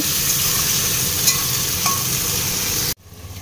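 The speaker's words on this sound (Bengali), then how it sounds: "ফোড়নে দিয়ে দিলাম গোটা গরম মশলা, জিরে, পেঁয়াজ রসুনটাও দিয়ে দিলাম" Whole garam masala, cumin, onion and garlic sizzle loudly in hot oil, a dense, continuous frying hiss with faint stirring scrapes, which drops off sharply near the end to a quieter crackle.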